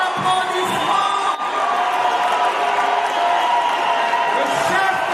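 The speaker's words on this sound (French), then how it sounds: "sous vos applaudissements" A large crowd at an event in Paris welcomes President Tshisekedi and the first lady with sustained cheering, whoops and applause, a dense, loud roar that holds steady for several seconds.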